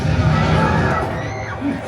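A theme park crowd cheers and whoops at the Muppets Rock 'n' Roller Coaster show at Hollywood Studios, a steady loud roar of many voices lasting a couple of seconds.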